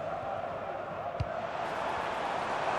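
Steady stadium crowd roar in the FC 25 football game during an Inter Miami versus New England Major League Soccer match, a distant, continuous murmur with a single soft thud midway.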